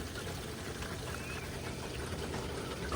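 Steady broadband rush of hot water flowing through a freshly thawed hose, continuous and fairly loud with no pauses.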